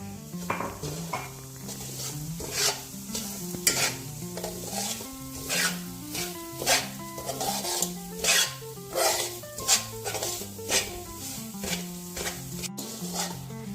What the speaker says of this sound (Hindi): सबसे पहले मैं ऑयल में सूजी को भून लूँगी।